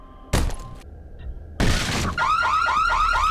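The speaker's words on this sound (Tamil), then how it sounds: "ஐயோ அலாரம் அடிக்குது." A car alarm goes off in the zombie video game Dead Island, after two loud crashing thuds, its rising and falling warble repeating loudly near the end.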